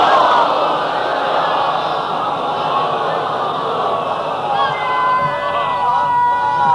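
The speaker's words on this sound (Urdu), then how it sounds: "بلند ترین صلوات بھیجیں معصومین کے حضرت" A large audience at a religious gathering loudly recites salawat in unison, a dense roar of many voices that swells and holds steady throughout.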